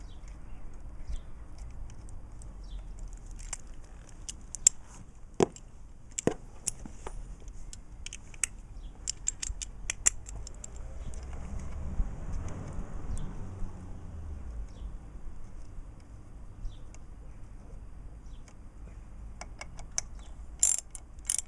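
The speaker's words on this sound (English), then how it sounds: "So again, just tighten up 10mm bolt." Ratchet clicks in short bursts, faint and sparse, as a 10mm bolt is tightened on a Yamaha FZS600 motorcycle's front sprocket area; there is a low hum underneath and no talking.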